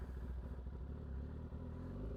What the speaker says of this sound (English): You'll hear the engine kind of bog a little bit.